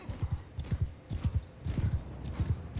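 Cavalry horses' hooves clatter in the Mount & Blade II Bannerlord video game, a fast, uneven clip-clop of many galloping mounts that stays close and fairly loud throughout, with no talk over it.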